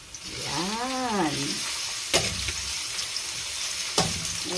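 Chicken gizzards sauté in a pan for a Filipino vegetable dish, a steady broadband sizzle running throughout with a few sharp clinks of a utensil and a brief whistling tone near the start.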